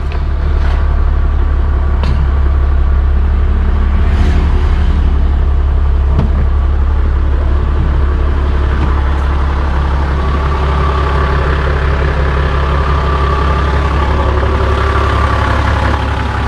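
A Toyota Land Cruiser VX80 engine starts and idles steadily and loudly close by, a constant deep rumble with a few faint clicks and taps on top.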